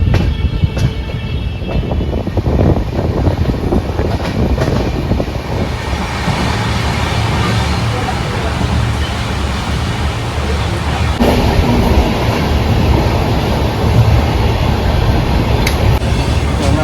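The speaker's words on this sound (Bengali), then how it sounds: "তো ট্রেন কিন্তু এখন সমমহিমায় দৌড়াচ্ছে।" The Howrah–Bolpur Shantiniketan Express runs along the tracks in a steady rumble, heard from on board with rattling and wind noise throughout.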